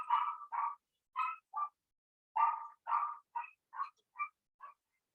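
A household dog barks in a rapid, uneven series of sharp yips, about ten short bursts with a brief pause midway, fairly close and clear with no talking over it.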